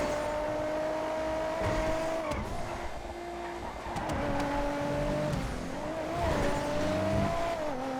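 A Lincoln ZR380 race car in a GTA FiveM race sounds its engine continuously, the pitch dropping and rising between gear changes and throttle lifts, with brief tire-scrub and skid noises and steady loud revving throughout.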